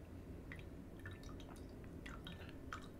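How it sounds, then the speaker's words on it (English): Tea is poured from a small teapot into a glass, a faint trickling and dripping of liquid over steady low background hum, with light splashy taps scattered across the pour. "so we're gonna just pour the tea into the glass"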